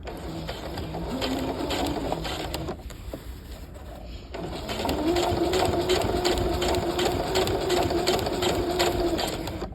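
Sewing machine stitching a half-scale jacket welt pocket, running in a fast, steady mechanical chatter, pausing briefly near the middle before starting again and continuing evenly at close range, with no talking.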